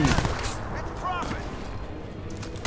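Rapid gunfire crackles through a Crysis 2 firefight, dense and continuous, with a voice talking over the shooting throughout.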